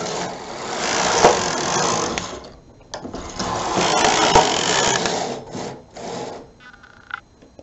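A knitting machine carriage runs back and forth across three rows of a women's V-neck sweater, a loud mechanical whirring and clattering in long sweeps with brief pauses between passes, alone with no talk.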